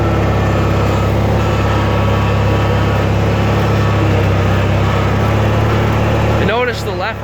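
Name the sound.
Dixon ZTR Ram 44 zero turn mower flathead opposed twin engine running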